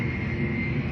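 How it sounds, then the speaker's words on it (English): Airplane flying over near Miami Airport, a steady loud engine roar filling the whole moment without talk. "I gotta be next to Miami Airport because there's a fucking plane every 20 seconds."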